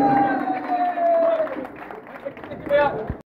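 Crowd at a pigeon racing tournament prize ceremony claps and cheers loudly and steadily for about three seconds, a voice speaking over the applause before it cuts off.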